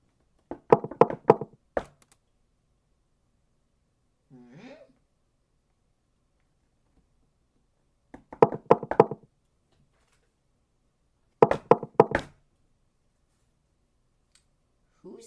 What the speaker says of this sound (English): Who's knocking at this hour?